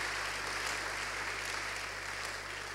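A church congregation applauds in a steady, dense wash of clapping that continues evenly throughout, with no pauses or individual voices standing out.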